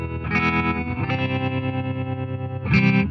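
Electric guitar runs through a tube-driven optical tremolo set to a fast speed, a sustained chord pulsing rapidly in volume without fully dropping out, with a fresh strum near the end, loud and close.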